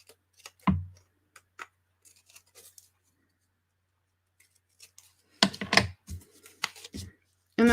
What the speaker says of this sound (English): So I'm going to trim this up around the edges.